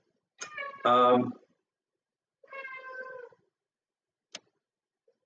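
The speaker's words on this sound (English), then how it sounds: "that's my kitty." A pet cat meows twice, close and clear, the first call louder and more drawn out, followed by a brief click; a person murmurs softly.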